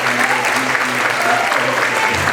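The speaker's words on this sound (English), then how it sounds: "So let's give Misty a round of applause" An audience applauding at a Barbie doll debut event, dense steady clapping throughout, fairly close and loud, with voices faintly mixed in.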